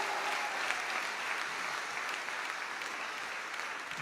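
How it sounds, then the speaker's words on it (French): Steady, dense applause from a church congregation clapping for Jesus during a revival service in Martinique, a continuous crowd of hands sustained evenly throughout without breaks. "clapping for Jesus, quoi?"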